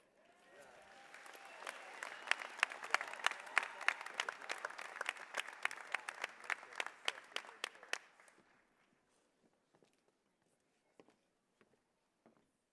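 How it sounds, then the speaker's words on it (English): A graduation audience applauds a speaker, building from a soft start into dense, lively clapping for about eight seconds. It then thins abruptly to a few scattered, isolated claps in near silence. "Can we give Chief another round of applause?"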